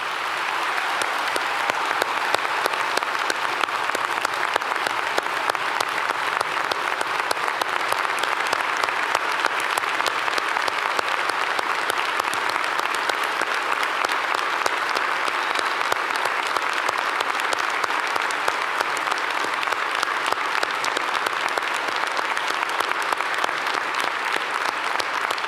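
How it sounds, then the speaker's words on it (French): A large audience at a university graduation ceremony gives sustained, dense applause to new doctoral graduates, a steady wash of clapping lasting over twenty seconds without letup. "Nous pouvons maintenant les applaudir."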